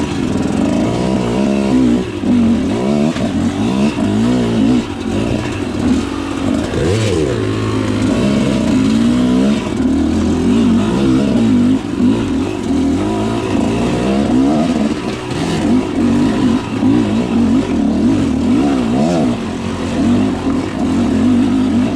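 A motorcycle engine pulling hard while riding, loud and close, its pitch rising and falling through gear changes over a continuous roar with wind rush.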